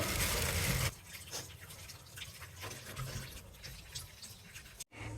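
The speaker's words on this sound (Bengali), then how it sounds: "মাছটা ধুয়ে নিলাম, এবারে মাংসটা ধুয়ে নেবো আমি ঝটঝট করে।" Fish and meat being washed under running water: a loud gush of tap water at first, then quieter splashing, rubbing and dripping as the pieces are rinsed by hand, ending with a brief clatter, with no talking.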